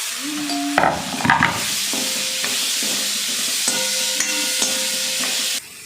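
Chopped onion and tomato sauté in a pan for chana masala, giving a steady loud sizzle throughout with a few scraping stirs near the start.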